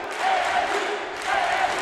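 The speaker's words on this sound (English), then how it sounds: "And you can hear the crowd." A large crowd at a men's college basketball championship game chants in rising and falling waves, a broad distant roar filling the arena at moderate loudness.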